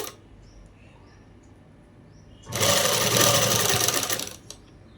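A sewing machine stitching a dress lining runs in one fast, loud burst of about two seconds after quiet, then stops abruptly.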